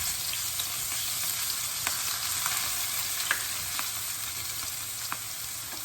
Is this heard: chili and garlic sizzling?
yes